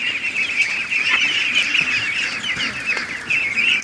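Many ducklings being rescued and raised for release, peeping and calling in a continuous, busy chorus at close range, with no talking.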